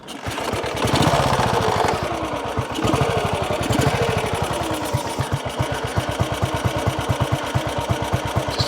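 British single-cylinder motorcycle engine thumping close by at a slow, irregular idle, with distinct individual firing pulses; the beat steadies and grows more even toward the end.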